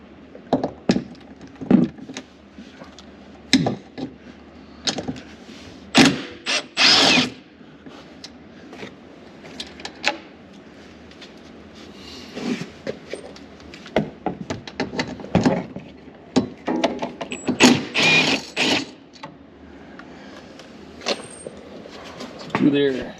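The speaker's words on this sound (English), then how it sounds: "there's some 10mm bolts. We'll pop 2 out on the driver's side" 10mm bolts coming out from under heat shields on a Ranger 1500 UTV: scattered clicks, clinks and short ratcheting bursts from a hand tool, close up, separated by quiet gaps.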